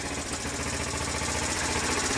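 A Sunl 110ST ATV engine, a small garage-sale machine, idles steadily and close up, a continuous even chug with no talking over it.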